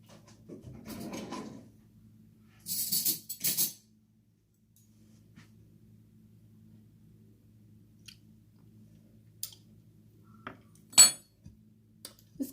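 A spoon rattling among dishes in a home kitchen before tasting a homemade buttermilk ranch dressing: a soft scrape, two bright metallic clinks close together, then scattered faint taps and one sharp clink later amid near silence.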